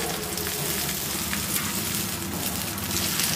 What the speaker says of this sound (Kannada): ನೋಡಿ, ಇವಾಗ ಒಗ್ಗರಣೆ ತಣ್ಣಗಾಗಿದೆ, ನಾನು ಈ ಚಟ್ನಿಗೆ ಹಾಕೊಳ್ತಾ ಇದ್ದೀನಿ